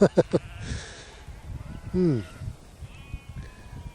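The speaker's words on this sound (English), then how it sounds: "all you can hear is the wind and the sheep and the occasional car passing through" A sheep bleats once in a wavering cry amid outdoor wind noise in rural Tasmania, with a few sharp knocks at the start and a faint passing car drone.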